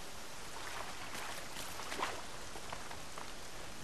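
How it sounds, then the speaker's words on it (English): Rain falls steadily in the Horizon Zero Dawn video game, a dense, even hiss of raindrops hitting surfaces. It is loud and close, with no pauses, and a few slightly sharper patters stand out from the constant wash. "Rain's too loud to hear much."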